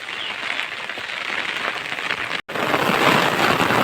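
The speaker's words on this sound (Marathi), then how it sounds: "आला आहे ना जोराचा झाला आहे पहिला थोडा थोडा लागत होता आता वाढला आहे" Dense monsoon rain pours down close by in the Konkan forest, a constant hiss that grows heavier after a brief break in the sound.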